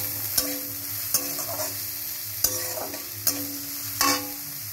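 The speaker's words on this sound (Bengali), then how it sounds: "এটাকে নাড়িয়ে হালকা লালচে হবে পেঁয়াজটা।" Onion being stirred as it fries in a little oil in a pan, the spoon scraping in several distinct strokes over a steady close sizzle, with no talking.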